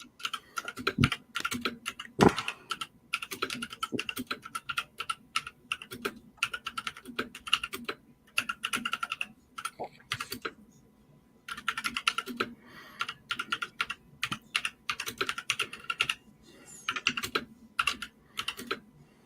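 Typing on a computer keyboard, close and crisp, with fast bursts of clicky keystrokes separated by short pauses across the whole stretch, and no voices.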